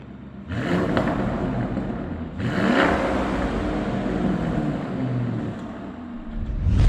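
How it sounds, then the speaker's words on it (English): A powerful twin-turbo V8 with a revised Akrapovic exhaust revs hard twice, its throaty exhaust roaring up and settling into a loud, rumbling idle before another rising blip. "Let's hear what this revised Akrapovic exhaust sounds like."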